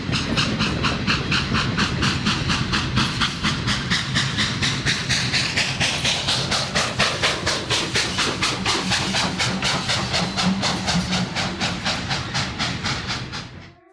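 Union Pacific 844 steam locomotive pushing a freight train up Archer Hill, its exhaust chuffing in a loud, steady, rapid rhythm close by, with hissing steam throughout before tailing off at the end.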